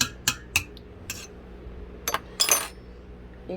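A spoon stirs salt into liquid in a jar while canning pinto beans, giving a few sparse, sharp clinks and taps against the container with quiet pauses between them.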